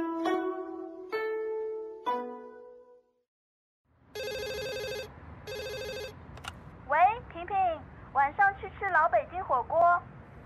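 A telephone bell rings in several short repeated bursts, then after a pause an electronic ringtone sounds in two bursts, followed by people talking.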